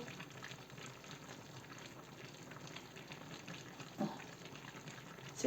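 Potatoes with cutlets stew in a covered pot, giving a steady low bubbling and hissing simmer with a couple of brief soft knocks near the end.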